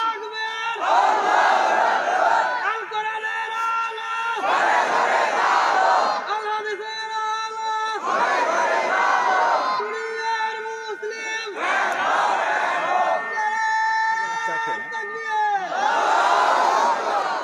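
A large crowd at an Islamic sermon gathering chants takbir in loud, rhythmic call-and-response bursts, roughly every two seconds, voices massed and echoing close by.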